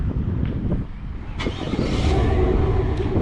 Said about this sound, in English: And let's do a quick remote start.